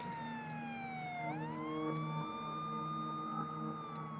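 A wailing siren rises and falls in pitch, steady and fairly loud, with traffic rumble underneath.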